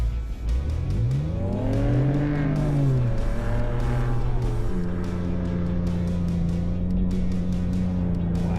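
A Ford Raptor four-wheel drive revs hard as it climbs a tall Australian sand dune, its engine pitch rising, dipping and then holding a steady, loud, sustained roar close by throughout.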